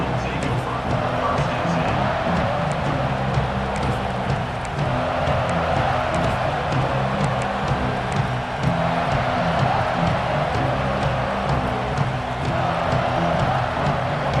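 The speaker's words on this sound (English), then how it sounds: "This crowd ready to make its presence known." A steady, dense roar of a stadium crowd fills a football video game, continuous broad murmur and cheering swells throughout with no distinct breaks.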